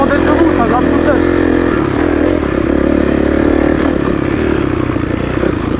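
A Kawasaki 450 KXF dirt bike engine drones loudly and steadily as it climbs through sand, with clattering and a rider's voice over the engine.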